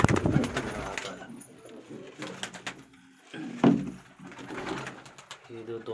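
Pigeons coo and stir close by as a pet bird is set down inside their coop, soft throaty calls rising between clattering movement and a person talking over them.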